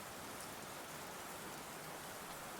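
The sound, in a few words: heavy rain outdoors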